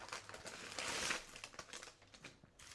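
A plastic candy bag crinkles and rustles up close in quick bursts as it is opened, with a louder crackling surge partway through, then lighter handling noises.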